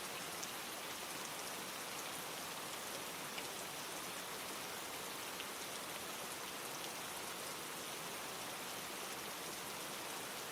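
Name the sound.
rain falling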